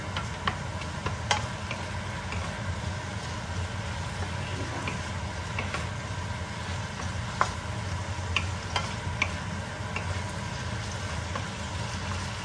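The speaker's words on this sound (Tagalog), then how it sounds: "Ngayon, haluin po natin." An asparagus stir-fry sizzling in a pan while being stirred, with a steady frying hiss broken by irregular clicks and scrapes of the utensil against the pan.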